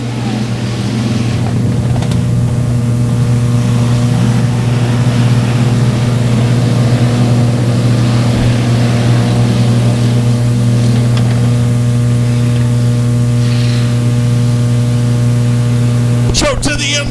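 Factory stock race cars roar together at a dirt speedway during the A main feature start, a loud steady engine drone with a strong constant hum, heard from a distance and holding for the whole stretch.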